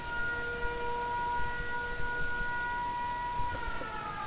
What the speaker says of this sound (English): Why is there a siren going on in the background?